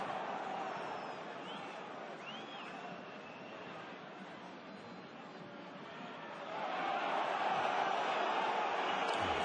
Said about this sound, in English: The crowd not liking the replay of that tackle.